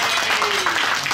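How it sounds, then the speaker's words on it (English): Brief burst of audience applause in a German cuckoo clock restaurant in Melbourne, a dense, steady wash of clapping lasting about a second. "give him a big Oscar, round of applause."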